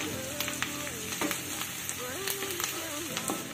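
Onions fry in a pan, a dense continuous sizzle with faint crackles and a few light stirring clicks, with no talk.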